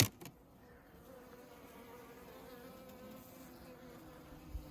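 Honeybees buzz steadily around an opened hive, a soft, continuous drone close by with a faint knock at the start and no voices.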